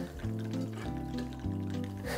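Scotch pours into a shaker glass packed with ice, a continuous trickling liquid sound with faint clinks, close and steady, backed by music.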